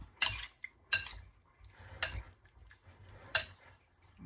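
Fresh raw fish being mixed with lemon in a bowl gives sharp, quiet clinks of a utensil against the dish, four distinct strikes spaced about a second apart with soft scraping between.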